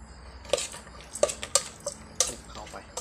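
Curry ingredients are stirred and dry-roasted in a pan, with a spatula scraping and knocking against the metal in several distinct clanks, set over a low background hiss.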